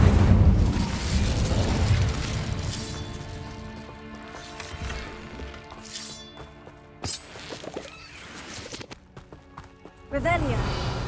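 The Incendio fire spell in Hogwarts Legacy bursts with a heavy whooshing boom and crackling flame, then fades into rumbling effects and another blast. A voice talks over the sounds throughout.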